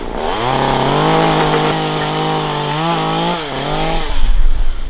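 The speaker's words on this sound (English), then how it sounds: "Holding on with one hand, chainsaw on the other." Chainsaw cutting through wood, running loud and steady close by with its engine pitch dipping and rising as the blade bites in, then a rougher burst near the end.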